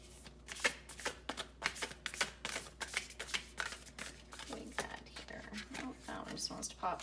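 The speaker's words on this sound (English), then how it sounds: "We are going to go ahead and pull a self-care card." A self-care oracle card deck being shuffled by hand, close and crisp, with bursts of riffling flicks in quick uneven rhythm and a softer sliding patter toward the end.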